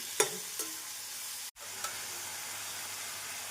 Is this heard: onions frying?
yes